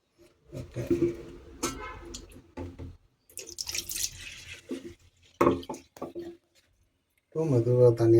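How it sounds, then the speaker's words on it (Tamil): Water is poured gently over a screen printing screen to rinse it, with a steady running trickle broken by pauses while a person talks over it. "இப்போ மெதுவாக தண்ணியை விட்டு கையால் பண்ணால் போதும்"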